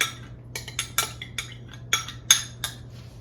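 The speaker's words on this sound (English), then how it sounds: "I'm just going to use a large spoon. I'm not going to use beaters on this." Large spoon clinks and scrapes against a bowl while large eggs are stirred into peanut butter brownie batter, irregular bright taps and clatters over a faint steady low hum.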